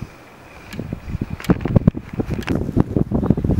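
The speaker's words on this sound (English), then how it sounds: "very windy again" Gusty wind buffets the microphone in rough, uneven bursts that build after the first second and keep rumbling to the end.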